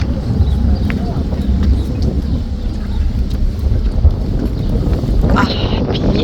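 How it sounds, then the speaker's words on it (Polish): Strong wind buffets the microphone on a river boat cruise on the Dalyan River in Turkey, a constant loud rumbling roar with a low engine drone beneath, and people talk over it. "ale widzicie jaki wiatr?"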